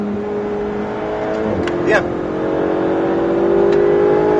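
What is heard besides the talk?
motorcycle engine revving on track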